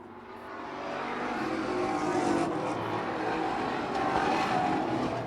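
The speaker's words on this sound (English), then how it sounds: "We are halfway through heat number 2, and Kennedy is uptight on the back bumper of your leader." Street stock race cars in a heat at a short oval track, a continuous loud roar of several engines building and holding as the pack runs close together, with no talk.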